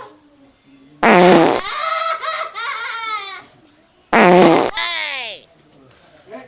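Two loud, drawn-out fart noises, the second rising into a wobbling squeal, separated by a stretch of quieter sound.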